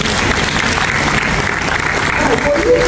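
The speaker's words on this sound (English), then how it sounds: "please, a strong round of applause." An audience at an entrepreneurship week event in Uganda gives a strong round of applause for a boutique hotel leader, a loud, steady wash of clapping that holds evenly throughout with some crowd noise mixed in.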